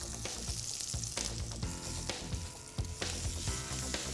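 Pork chop sizzling in a hot pan with garlic, thyme and rosemary, a steady close, loud frying crackle with sharp pops throughout and no talk.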